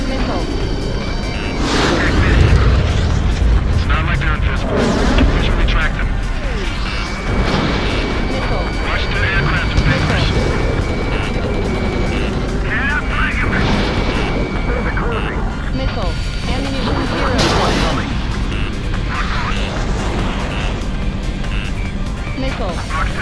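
Jet engines roar steadily in Ace Combat 7 while missiles streak and explode, with radio chatter and a voice talking over the continuous aerial combat.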